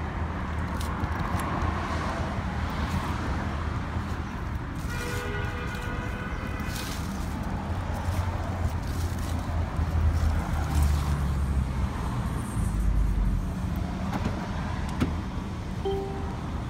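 A car's engine and road rumble pass by in steady low-frequency noise, with a louder surge in the middle and some faint background sounds; no one speaks over it.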